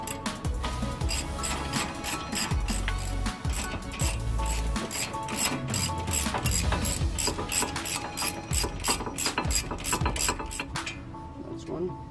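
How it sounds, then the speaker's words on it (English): A hand ratchet loosening 17mm brake caliper bolts on a Honda Civic, a fast, steady run of close, crisp clicks that goes on for several seconds and stops near the end, with no talk. "Now we take out the caliper bolts"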